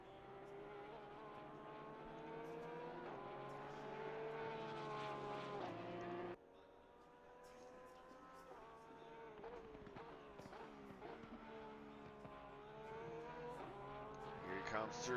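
A Porsche GT3 race car in the ACC video game at Mount Panorama, its engine wailing in steady high revs with gear changes and a sharp shift partway through, under commentary.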